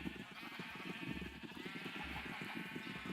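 Sheep in Minecraft survival bleat in steady, pulsing cries, fairly close, with a low droning game background beneath and no speech.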